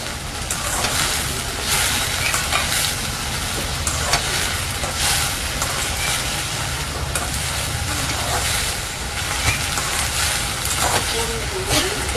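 Vegetables for sambar sauté in a hot pan with a steady, continuous sizzle and hiss that holds evenly at close range throughout.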